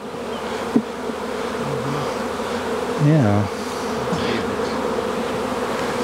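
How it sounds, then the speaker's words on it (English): Honeybees buzz in a continuous, close drone while frames are handled in a spring hive inspection, with a brief spoken word in the middle. "Go ahead and shake the bees off first."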